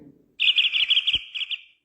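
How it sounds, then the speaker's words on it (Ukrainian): A tit gives a rapid run of high, tinkling calls, close and clear, lasting about a second. "Вірно, це синичка"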